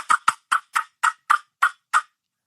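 Person imitating a wild turkey hen with mouth-made yelps and cutting, eight sharp, evenly spaced raspy notes in quick succession, close and clear against silence.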